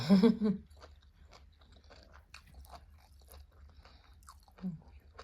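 Someone chews a mouthful of rice with bitter beef koi up close. Quiet, wet chewing and crunching follow a louder burst at the start, with soft bites and mouth sounds throughout.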